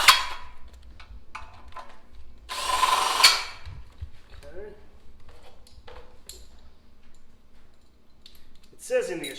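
A power tool cinching rock slider bolts on a 2021 Can-Am X3 Max XRS Turbo RR in a garage, with short bursts of drilling between stretches of a person talking close by.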